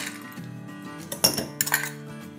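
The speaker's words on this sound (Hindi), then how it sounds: "और अब इसमें हम डालेंगे आइस।" Ice cubes clink into a mango mojito glass with a salted rim, with two or three sharp, bright knocks close by over a quiet background.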